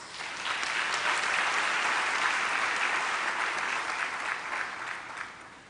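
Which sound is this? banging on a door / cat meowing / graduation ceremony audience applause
graduation ceremony audience applause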